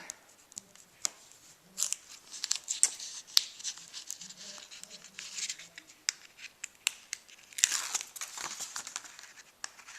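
Pieces of adhesive tape backing are peeled off a chipboard cover for a mini album, heard close up as scattered crinkly crackles and short ripping bursts separated by quiet gaps.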